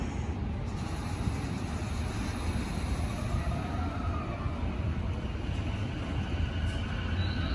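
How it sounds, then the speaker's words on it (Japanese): A steady low rumble and rolling noise of a JR Chuo Line electric train pulling away from the elevated platform at Tokyo Station, continuous and fairly close, with no talk. "1番線から電車発車しております。"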